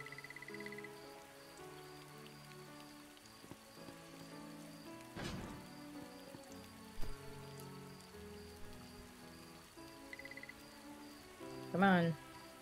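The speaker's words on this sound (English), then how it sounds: "I hear rain." Soft rain in the game Starbound, a quiet patter under tonal game music, broken by a few brief thuds and a short bright jingle near the end.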